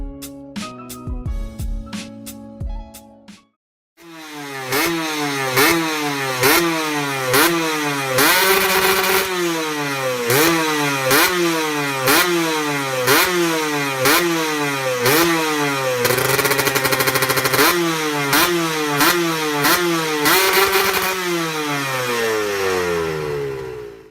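A Suzuki RC 150 Gamma two-stroke motorcycle revs hard again and again in a steady rising-and-falling cycle, loud and close, after a brief different opening sound.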